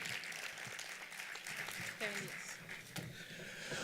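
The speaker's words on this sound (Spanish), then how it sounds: "así que también les pido un fuerte aplauso para él." An audience claps for an Argentine man from La Pampa at a church gathering on life and family, a dense wash of applause running steadily throughout with voices mixed in underneath.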